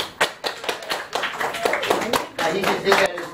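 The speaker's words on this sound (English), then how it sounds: "Give a round of applause, ladies and gentlemen." Audience applause, a brisk run of hand claps with sharp distinct slaps in an uneven rhythm, fairly close and loud for a few seconds.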